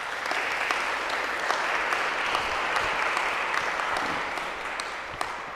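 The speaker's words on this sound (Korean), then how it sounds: "감사와 응원의 박수 부탁드립니다" Warm, moderately distant applause from a congregation during a Sunday church service, even continuous clapping filling the space for several seconds.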